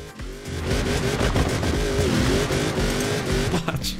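Loud, continuous car engine revving in Forza Horizon 4, the pitch rising and falling through gear changes with brief tire noise, sustained close up for the whole stretch.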